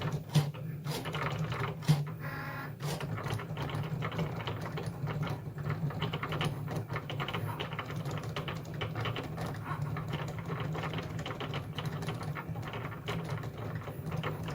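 A Cricut cutting machine cuts a thin paper branch on its adhesive mat, making a steady mechanical whir laced with quick ticks and clicks, with a sharper knock early on.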